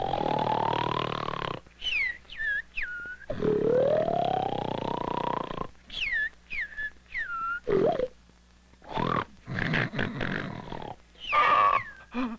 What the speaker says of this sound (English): I can't stand that snoring any longer.